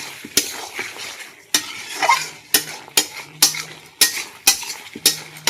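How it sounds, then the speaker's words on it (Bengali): Chicken being stir-fried in a pan with Kashmiri chili paste for a curry, a spatula scraping and clacking sharply about ten times at a steady rhythm over a soft continuous sizzle, close and fairly loud, with no talking. "কাশ্মীরি লঙ্কাটা দেওয়ার পরে মাংসটাকে আবার ভালো করে কষিয়ে নেব।"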